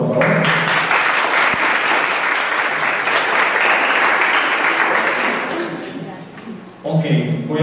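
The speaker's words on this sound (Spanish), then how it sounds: "con un fuerte aplauso, por favor" Audience applause welcoming a special guest at a forensic social work talk, a dense steady clapping that swells and holds for several seconds, then fades out as a voice begins speaking near the end.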